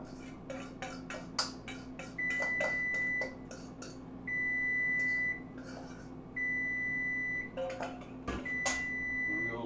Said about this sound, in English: There goes that beeper.